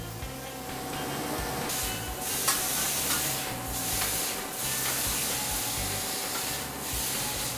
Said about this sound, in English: I'm gonna flip over the tortillas real quick